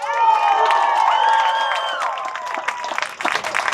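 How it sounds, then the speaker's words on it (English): Loud rally crowd cheering and whooping with applause, sustained and dense at first, then thinning into scattered claps and shouts. "And a big round of applause for our future governor, Beto O'Rourke."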